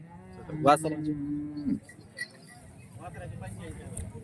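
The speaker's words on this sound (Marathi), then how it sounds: "ते जुळलेले बैल आहेत" A bull lets out one long, deep moo, close and loud, followed by a murmur of voices and crowd noise at the busy weekly Salegaon bull market.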